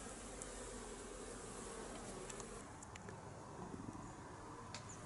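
Continuous buzzing hum of many honeybees moving about inside a hive in winter, steady and close, with no voices.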